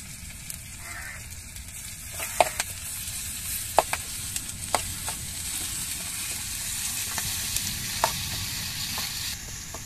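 Ginger garlic paste frying in a pan with onions and curry leaves for an egg curry: a soft continuous sizzle broken by sharp spatula clicks and scrapes, close but fairly quiet, no talk.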